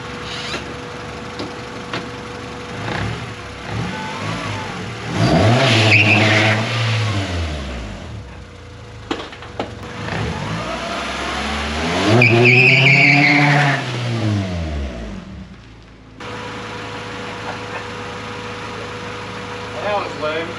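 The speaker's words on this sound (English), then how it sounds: "I've never tried to do a standing still burnout of front wheel drive." A front-wheel-drive daily car attempts a standing burnout, its engine surging in two long revving pushes with squealing, skidding tires, then dropping back to idle, while people talk over the noise.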